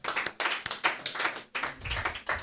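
Round of applause from an audience at a doctors' induction ceremony, dense clapping in several surging bursts, moderately close and steady throughout.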